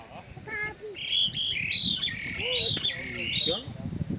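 Sparrows calling close by with a busy mix of bright chirps and squawks overlapping at a fairly loud level, while voices murmur faintly in the background.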